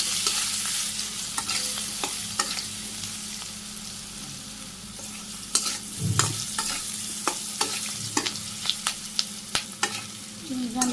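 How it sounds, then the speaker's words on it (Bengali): Vegetables with turmeric and dried chili powder are stirred and fried in a pan. A steady close sizzle runs throughout, broken by scattered scraping and clacking from the spoon, and there is no talking. "হলুদের গুঁড়ো, শুকনো মরিচের গুঁড়ো, আবার নেড়ে চেড়ে কষে নিই।"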